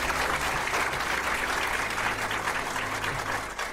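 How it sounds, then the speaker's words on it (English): A studio audience on a Nigerian TV quiz show applauds in a sustained, fairly even burst of many hands clapping, moderately loud, tapering slightly at the end. "But I'm going to give you a round of applause."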